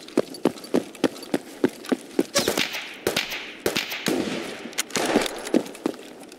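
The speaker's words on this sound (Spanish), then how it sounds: "¿Y esos tiros?" Sharp gunshots ring out in Escape from Tarkov, a rapid run of loud single cracks followed by bursts of tightly spaced fire, with no talk over them.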